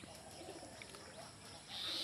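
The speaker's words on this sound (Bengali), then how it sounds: "সেই পাখিদের কোলাহল, হাঁস মুরগি কবুতর সব কিছুর কোলাহল" Village birds call in the early morning, with faint pigeon coos and scattered chirps in a soft outdoor wash, distant and quiet, ending in a brighter hiss.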